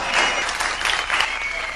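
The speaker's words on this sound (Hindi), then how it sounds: "बहुत बहुत शुक्रिया, आप लोगों ने तालियां बजाई" An audience claps at a live comedy show, a dense burst of applause that swells and ebbs briefly at moderate distance.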